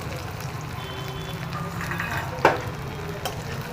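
Chopped onion, ginger and garlic fry in hot oil for a Bengali bhaja chechki, a steady close sizzle with occasional stirring scrapes and one sharp utensil knock.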